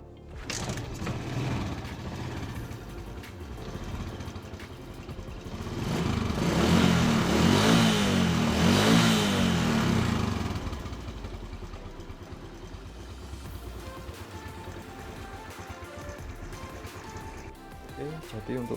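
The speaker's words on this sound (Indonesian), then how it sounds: "kita cek sound ya guys, seperti apa mesinnya" A used 2004 Suzuki Shogun 125 motorcycle with an original, smooth-running engine idles nearby, revs up louder for a few seconds and then settles back to a steady idle.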